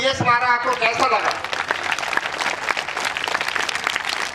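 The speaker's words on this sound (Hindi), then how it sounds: "मैं चाहूंगा कि आप सब लोग एक बार तालियां बजा के ये दिखाइए कि ये समारोह आपको कैसा लगा।" Audience applause for a children's cultural program, loud, dense clapping that swells in right after a voice at the start and carries on steadily to the end.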